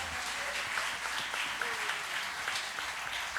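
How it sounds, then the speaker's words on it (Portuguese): A church congregation at a celebration service applauds in steady, fairly quiet clapping, with voices faintly audible beneath. "Você pode aplaudir o Senhor por essa palavra maravilhosa"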